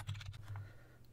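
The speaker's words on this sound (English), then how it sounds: "Now the next thing you want to do is type sudo apt upgrade." Quick, light clicks from a computer keyboard as a terminal command is typed on a Pop!_OS Linux machine, a short close burst of several keystrokes followed by a fading tail.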